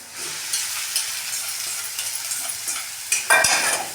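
Tomato and pieces are stirred into a bottle gourd curd chutney, with a soft wet hiss and a few light scraping stirs, ending in a louder clatter, and no talk.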